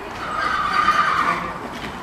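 Young horses at a Goffs bloodstock foal sale, with one clear, loud whinny rising and falling across about a second and a half, then fading into a faint background of other horses.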